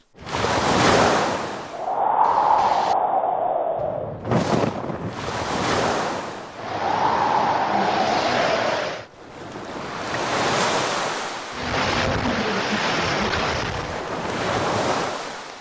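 Sea waves break against the shore in heavy roaring surges while strong wind batters the microphone during Cyclone Phailin on the coast of India. The surges are loud and close, with no voices.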